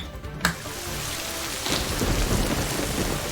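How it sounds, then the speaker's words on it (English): Thunderstorm with steady heavy rain heard through an open window, a sharp crack of thunder early on, then a building rumble as the downpour swells and continues loud and close. "Teapot, what's that sound? Is that the storm?"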